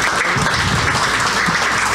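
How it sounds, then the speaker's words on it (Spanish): Audience applause at a formal event in Jalisco honouring the state governor, a steady dense wash of clapping filling the hall, loud and continuous with no pauses. "Un aplauso, por favor."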